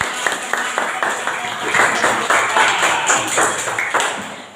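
Fifth-grade pupils clap for classmates after a Pancasila lesson practice in a classroom, a loud, quick and fairly rhythmic run of claps lasting several seconds, with children's voices mixed in.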